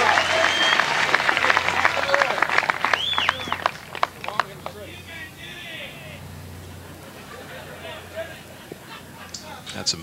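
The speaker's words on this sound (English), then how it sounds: "some vocal support coming out of the crowd here at Mesquite, Nevada" A crowd at the ReMax long drive championship in Mesquite, Nevada cheers and applauds loudly, with whistles and shouts rising early before fading into scattered claps and murmuring, while a commentator talks over it.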